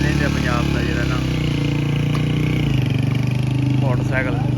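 Motorcycle engine running steadily at a rural gathering, a constant rumble close by beneath people talking over it throughout.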